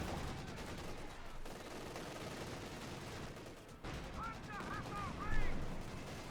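Company of Heroes 2 battle audio: continuous gunfire and tank cannon shots from Panther and anti-tank units rumble under a caster's commentary, with a louder blast near the end.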